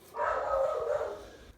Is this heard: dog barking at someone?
yes